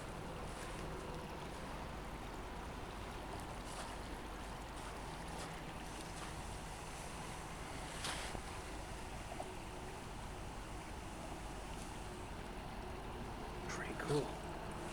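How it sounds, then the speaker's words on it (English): The San Diego River flows beneath a thoroughfare in a wooded grove in Santee, California. It makes a steady, low rushing wash, mixed with wind buffeting the microphone and a few faint louder bumps. "Here's the water."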